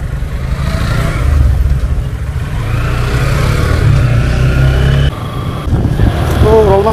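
Three motorcycles setting off together on a morning group ride from Gazipur toward Mymensingh, a loud close engine drone rising and steadying with rev changes, road and wind rumble throughout.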